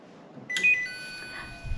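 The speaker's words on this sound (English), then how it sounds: "So the timer's just gone off." An air fryer's timer sounds, a single short electronic beep with a ringing tone, fairly close, followed by a faint hum.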